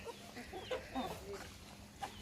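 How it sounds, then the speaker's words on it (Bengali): Hens on a small backyard farm kept with ducks cluck in short, scattered bursts, fairly quiet and close, with no talking over them. "আপনারা গুটি গুটি পা ফেলতে ফেলতে আমার হাঁস মুরগিগুলো দেখেন অনেক বড় হয়ে গেছে"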